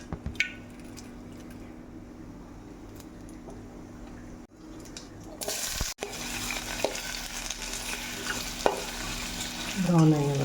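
Onions with cinnamon, cardamom and cloves fry in hot oil and are stirred until brown, a constant sizzle broken by the scrape and squish of stirring, growing louder and busier toward the end.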